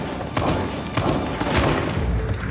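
Gunfire from snipers in the video game Uncharted: The Lost Legacy, heard as a few sharp, spaced cracks and thuds over a dense rumbling game backdrop.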